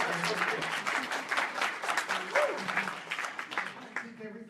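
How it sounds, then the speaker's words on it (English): A town hall audience gives a sustained round of applause, dense and steady clapping throughout with a few voices mixed in. "give Byron another round of applause"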